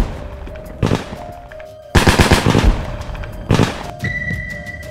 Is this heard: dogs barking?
no